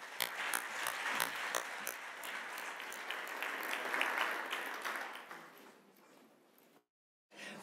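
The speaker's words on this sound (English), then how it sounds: "I think we'll give them another round of applause" Sustained applause from a seminar audience for a panel of speakers, dense clapping with scattered sharper claps that thins and fades out toward the end, followed by a brief silence.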